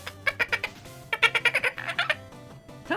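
A human voice imitates a cat's chirping meow at birds: a rapid run of short, high, trilling chirps, repeated in two quick bursts, close and fairly loud.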